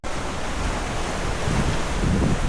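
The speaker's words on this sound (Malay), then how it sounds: "Walaupun berangin, beralun" Wind and ocean waves at sea, a steady broadband roar with gusting wind noise on the microphone throughout, swelling slightly louder toward the end.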